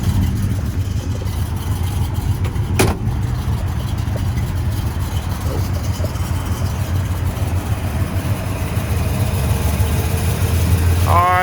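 A restored 1966 Chevrolet Nova with a high-performance small block V8, Edelbrock aluminum heads and a high-rise intake idles steadily and loudly up close, a sharp click partway through.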